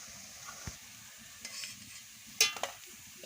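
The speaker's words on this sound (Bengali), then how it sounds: "এবারে ভালো করে ভেজে নিচ্ছি, লাল লাল করে ভেজে নেব" Coconut fritters being deep-fried in oil until reddish-brown, a soft steady sizzle with scattered stirring clinks and a couple of sharper taps near the end, no talk.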